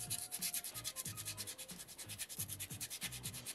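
Sandpaper rubbing on a piece of soapstone during carving, a steady rhythmic back-and-forth scratching of many quick strokes, close and fairly quiet, with no talking.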